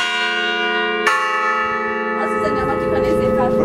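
The middle bell of a Reformed church in Ács, a 437 kg bell cast in 1974 in Őrbottyán, rings out loud and sustained, with a fresh strike partway through and a rich humming tone that lingers.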